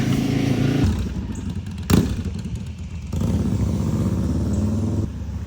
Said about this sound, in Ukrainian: Мотоциклисты.